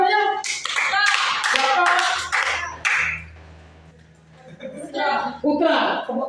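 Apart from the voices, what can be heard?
audience clapping hands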